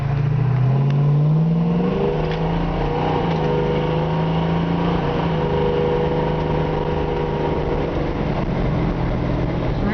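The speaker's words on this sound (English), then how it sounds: "I'm going to let it shift out automatic right now is what I meant to say" A 1971 Ford Torino with a 460 engine accelerates hard, its loud, close engine note climbing and then dropping as the automatic transmission shifts up, leaving a steady mid-pitched drone.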